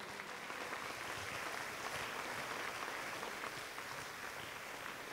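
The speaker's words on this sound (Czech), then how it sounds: "Ešte raz jeden veľký potlesk pre ňu." A steady, even wash of audience applause fills a Slovak fashion designer competition as the runner-up is honoured, dense clapping holding at a moderate, slightly distant level throughout without pause.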